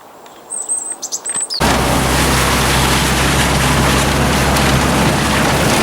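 Seagulls over flooded farm fields give a few sharp chirping calls in a quiet opening, then a loud, steady rushing wash takes over for the rest, with more faint calls buried beneath it.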